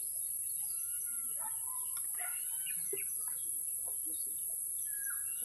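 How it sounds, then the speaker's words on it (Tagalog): A chicken clucks in short irregular calls outdoors, fairly distant and faint, with a few other bird chirps and a steady high hiss behind. "Manok."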